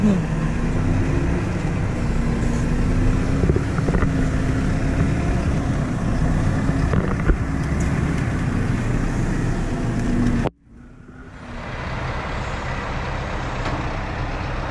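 A heavy diesel engine of an articulated Valtra forestry tractor rumbles steadily up close, drops out abruptly, then restarts and keeps running at a lower level.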